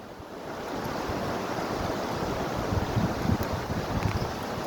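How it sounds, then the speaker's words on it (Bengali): Water waves slosh and rush around a boat in a steady broad wash, with wind buffeting the microphone and no voices. "বাবা ঢেউ হচ্ছে রে"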